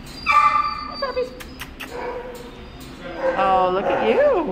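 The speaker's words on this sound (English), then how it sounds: "Puppies." Puppies whimpering and yipping close by, high thin cries rising and falling in bursts, with a person's voice murmuring between them.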